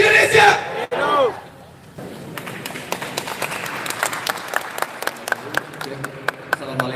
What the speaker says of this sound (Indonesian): tepuk tangan teman-teman semuanya